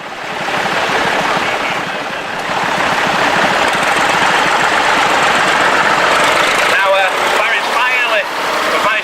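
An old grey Ferguson tractor fitted with a Land Rover engine runs at a rally, a loud, steady close rumble with outdoor background noise over it.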